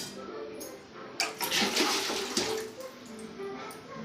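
Water poured from a tumbler into a pot for dried ginger and coriander tea, a splashing pour swelling to a steady broadband gush for about a second and a half, then trailing off in a quieter home kitchen.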